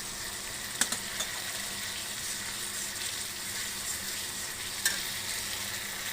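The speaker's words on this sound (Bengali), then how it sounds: "মশলাটা আমি ভালো করে কষামো। মশলাটা কষাইয়া তেল উঠবো, তেল ছাড়বো" Spice paste frying and being stirred in oil for a Bengali soybean and egg curry, a steady broadband sizzle with a couple of sharp utensil clicks near the start and end.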